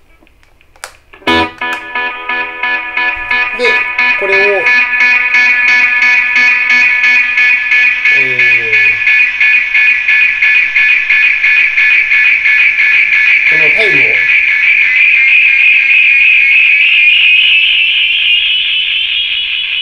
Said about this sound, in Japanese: リピートをこれマックスにして、とりあえずこれ一回バーンと弾きますよ。